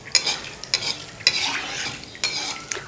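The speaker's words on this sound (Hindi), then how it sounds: "अब इस तरह चलाना चम्मच।" A spoon sweeps around a pan on a stove turned up to higher heat while making gulab jamun, giving about four quick scraping strokes with a light sizzle running beneath.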